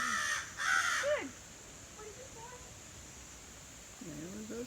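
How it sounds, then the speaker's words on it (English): Crows caw on a September nature walk: a couple of loud, harsh caws at the start, then fainter calls and another caw near the end against quiet outdoor background. "There were those crows again. I tell you, they only make noise when you're away from them."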